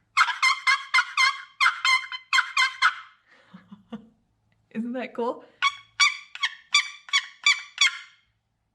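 A wooden turkey box call scraped in quick runs of sharp, nasal yelps and yips imitating a hen turkey, loud and close, with a brief spoken question in a pause midway.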